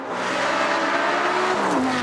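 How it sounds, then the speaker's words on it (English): A Lamborghini Gallardo Superleggera engine fitted with straight-through exhausts runs loud and close, holding a steady high-revving drone with a brief pitch dip near the end, with no voices over it. "The engine sounds fantastic because it's got straight-through exhausts on it"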